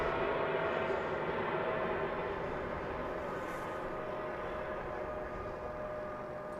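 A heavy airliner departs DFW International Airport, a steady broadband jet roar held at constant loudness and heard from a distance, with no voices.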